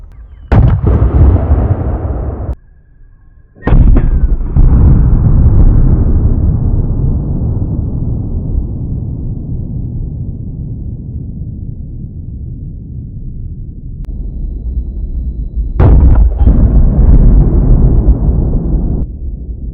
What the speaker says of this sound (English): We've got out the Barrett 50 BMG with the Night Force.